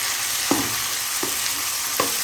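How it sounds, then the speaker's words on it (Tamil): Onion and tomato sizzle in hot oil in a pan for a Tamil village-style fish curry. The steady frying hiss is broken by three spatula scrapes and stirs at roughly even intervals. "மறுபடியும் நல்லா வதக்கணும்."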